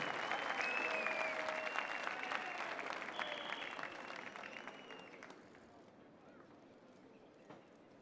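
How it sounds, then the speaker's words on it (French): Audience applause for the Swiss team at the Coupe du Monde de la Pâtisserie 2015 pastry competition, a dense, steady clapping near at first that fades over the last few seconds. "On peut applaudir l'équipe de Suisse"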